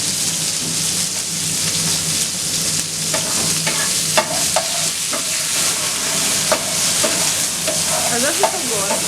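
Food fries in oil in a pan over a strong flame, giving a loud, continuous sizzle. Scattered clinks and scrapes of stirring come through, with no talking.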